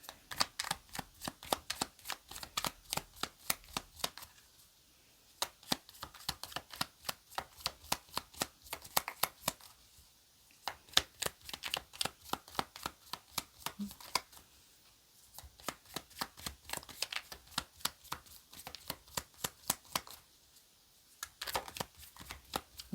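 Tarot cards are shuffled by hand in quick bursts of soft, rapid flicking riffles, separated by short pauses, quiet and close.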